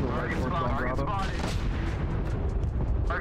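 A video game mech fires heavy ballistic cannon rounds in a rapid, thunderous barrage at close range, booming shots packed densely together while a voice speaks over the fire.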